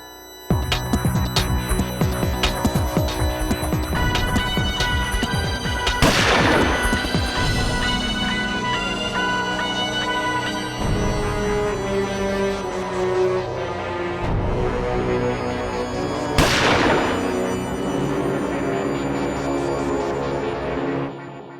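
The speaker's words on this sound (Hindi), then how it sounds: "मैंने गोली चलने की आवाज तो सुनी" Gunshots at a wedding celebration: two loud, sharp bangs about ten seconds apart cut through continuous loud wedding dance music.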